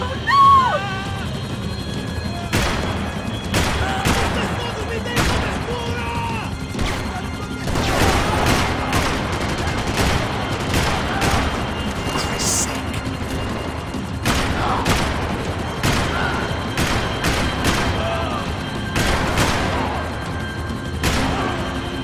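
Repeated gunfire in the Max Payne 3 video game, sharp loud shots and short bursts scattered over a steady whirring helicopter-like drone, with occasional crashing impacts and some voices.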